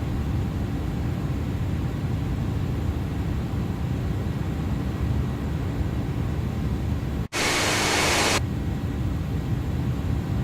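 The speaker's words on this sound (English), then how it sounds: "It's very loud from the outside the airplane." Outside cabin noise of an Airbus A300 in Microsoft Flight Simulator 2024, a loud, steady broadband engine roar and rushing air, unbroken except for a brief cut and a harsher hiss near the end.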